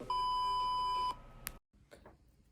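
A phone notification sounds as one long steady electronic beep lasting about a second, followed by a sharp click and faint rustling at close range.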